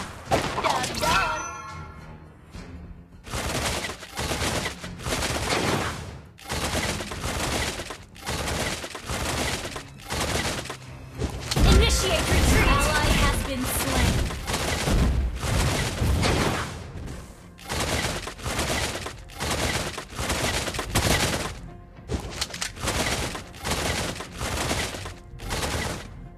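Beatrix firing her guns in the Mobile Legends video game: dense, loud bursts of rapid gunfire repeating through the whole stretch, with heavy booming impacts and game effects layered in.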